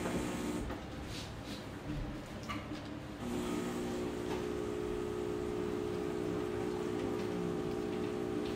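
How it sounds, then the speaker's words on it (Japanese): Steady rain falls on a rainy morning in Beppu, a continuous soft hiss that runs the whole time, with a low hum joining partway through and faint background sounds beneath. "ずっと雨でしたね。"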